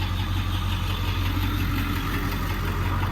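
A diesel truck driving on the road with an enclosed trailer in tow, its engine droning steadily at mid pitch with a constant low hum and road noise throughout, close and unbroken.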